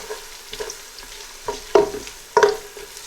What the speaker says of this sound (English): I'll also add the garlic now. Give a little stir.